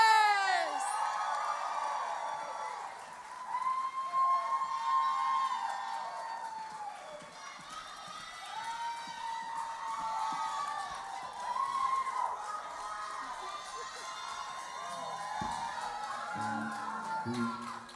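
Teen concert audience at a Girls Rock Charlotte camp show cheering and whooping together, a steady crowd roar with high shouts rising and falling throughout, loud and close.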